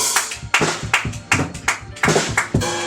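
A church congregation in Port-Gentil, Gabon, applauds in a lively, rhythmic burst of hand claps, close and steady, with no talking.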